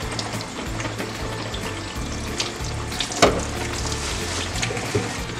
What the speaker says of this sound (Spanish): Ya está hirviendo nuestra agua